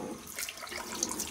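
Warm water running from a tap while a face is washed, a soft, steady hiss of flowing and splashing water, quiet and close, lasting only a moment.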